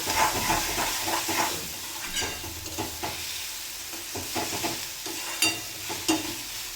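Garlic, ginger and green chilli sautéing in a pan for a dried bombil curry, continuous close sizzling with scraping stir strokes and intermittent sharp pops, no voices.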